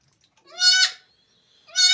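A goat bleats twice inside a farm pen, two loud, harmonic bleats about a second apart with quiet in between.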